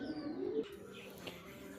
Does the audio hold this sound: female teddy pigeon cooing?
yes